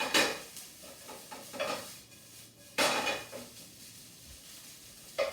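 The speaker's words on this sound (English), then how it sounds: "salt, pepper, and stir a little bit" Leftover rice with salt and pepper is stirred in a pan, with a spoon clinking and scraping against the metal in irregular close bursts over a faint sizzle.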